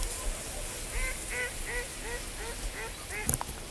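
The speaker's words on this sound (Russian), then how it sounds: "Утки анекдот рассказали, наверное, слышали?" Ducks on a small pond call in a series of about eight short, evenly spaced honking quacks at moderate distance, over a soft outdoor background.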